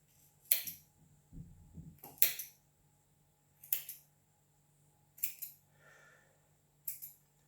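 Small shears snip through warp yarn at the back of a rigid heddle loom, giving five crisp, close cuts spaced about every second and a half, with quiet handling noise between them.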